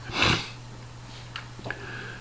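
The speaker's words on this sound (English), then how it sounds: "My apologies for the sniffles here." A strong sniffle up close, followed by a couple of fainter sniffs and small mouth noises, with no talking.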